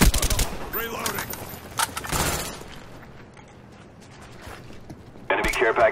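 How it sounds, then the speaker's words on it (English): Weapon reloading in the Black Ops video game, with mechanical clicks and ratcheting amid bursts of gunfire early on, then a quieter stretch before a loud burst returns at the end. "Reloading."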